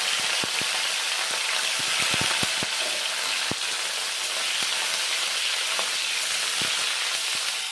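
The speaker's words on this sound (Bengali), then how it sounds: "দিয়ে দেবো সর্ষের তেল, মাছগুলো ভেজে নেব।" Dried fish fry in hot mustard oil with a steady, loud crackling sizzle, sharp pops scattered throughout and no voices.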